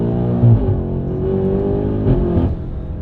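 A BMW M8 Competition fitted with downpipes pulls hard in first gear from a standstill, heard from inside as a loud, deep, rising engine drone that climbs steadily with brief surges.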